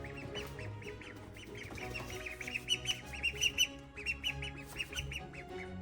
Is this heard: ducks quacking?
yes